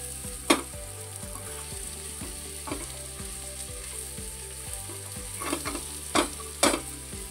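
Spice masala fries in hot oil for dhuska, a continuous close sizzle broken by a few sharp scraping stirs, with no voices.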